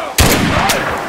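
Gunfire in the video game Mud and Blood: a loud, sudden burst of shots that cuts in after a brief pause and carries on as a dense volley, with a second sharp report near the end.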